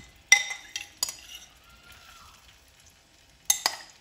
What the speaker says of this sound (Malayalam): മീറ്റ് നന്നായിട്ടൊന്ന് ഫ്രൈ ചെയ്തെടുക്കാം